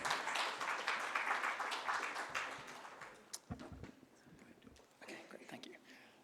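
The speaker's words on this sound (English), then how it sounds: "please give a round of applause to Mr. Nico Rorich" Conference audience at an inaugural session applauding a speaker, dense clapping loud at first then thinning and fading into scattered claps with a few faint voices.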